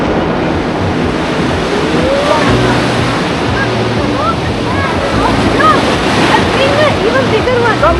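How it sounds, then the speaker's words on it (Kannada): Ocean waves surge steadily onto Candolim beach in Goa, a loud continuous wash of surf mixed with wind buffeting, while faint voices call out over it. "ನೋಡಿ ಇಲ್ಲಿವರೆಗೂ ಬರುತ್ತೆ ಇವಾಗ ಅಲೆಗಳು."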